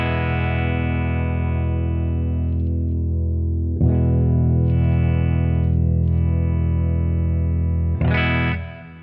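Played through the bridge pickup, an Ibanez PIA3761 electric guitar rings out a few sustained, effect-soaked chords, each new strum striking roughly every four seconds before the last one fades, loud and close with no voices.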